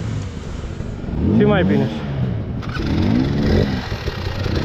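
An enduro motorcycle engine idles steadily at a hard enduro race, Enduro Heniu 2024, with a continuous rough mechanical rumble running beneath close conversation.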